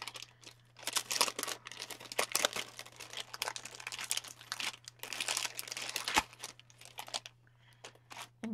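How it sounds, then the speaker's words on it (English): A mail package of craft-shop goods crinkles and rustles close up in repeated bursts of handling, with short pauses between them and a low steady hum underneath. "Sorry for the crinkling."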